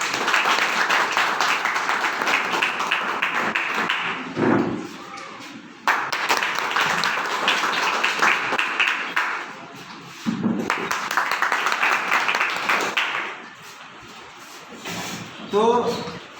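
Loud applause from an audience at a talk, three strong bursts of clapping separated by short stretches of speech.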